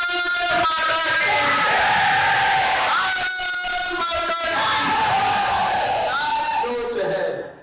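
A college audience at a poetry gathering shouts a patriotic slogan together, a loud, sustained chorus of many voices that swells and then fades off at the end.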